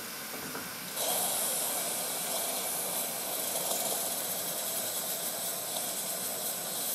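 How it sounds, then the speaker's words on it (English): A steam plant's safety valve blowing steam, a steady broad hiss that starts abruptly about a second in and continues without a break at moderate volume. "you can just about see the safety valve blowing a little bit of steam"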